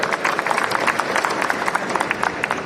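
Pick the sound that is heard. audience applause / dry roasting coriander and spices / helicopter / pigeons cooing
audience applause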